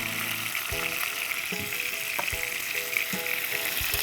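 Whole spices (bay leaf, cardamom, cinnamon and cloves) sizzle in hot oil with a steady hiss. Scattered sharp pops and ticks break through as the pieces drop into the pan.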